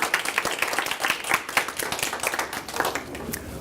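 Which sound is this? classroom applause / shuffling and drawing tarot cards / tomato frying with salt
classroom applause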